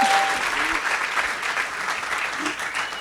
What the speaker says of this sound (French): Je pense que moi, je vous applaudis. Applaudissez-vous.